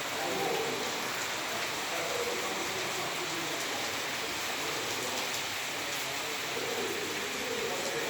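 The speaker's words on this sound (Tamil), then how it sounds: "நல்ல மழை நல்லா பெய்யுது." Heavy unexpected rain pouring in Coimbatore during a red alert, a dense steady hiss of drops on surfaces with no talk.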